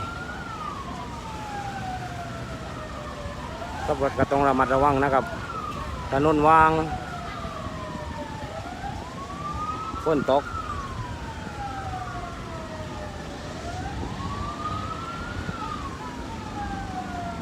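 A wailing fire truck siren rises and falls repeatedly at a distance, continuous through the clip, with someone speaking briefly over it.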